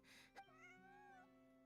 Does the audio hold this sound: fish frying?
no